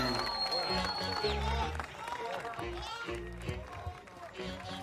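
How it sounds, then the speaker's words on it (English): An arena crowd in Riyadh, Saudi Arabia, roars and applauds after a boxer's professional debut win, a continuous cheering wash with a commentator talking over it. "taking the acclaim of the crowd, who absolutely loved that"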